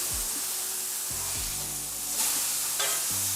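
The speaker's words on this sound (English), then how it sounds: "We're gonna flip these babies over." Burger patties sizzle on a flat griddle with a continuous loud hiss, and spatula scrapes and clanks mark the patties being flipped over, with no talking.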